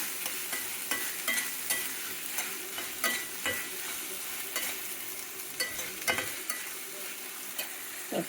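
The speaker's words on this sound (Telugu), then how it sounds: "ఇక వేగనివ్వాలి నాకు బాగా." Vermicelli fries in a pan with steady sizzling, and a spoon stirs and scrapes it in irregular clicks and rattles throughout. The sound is close and moderately loud, with no talking.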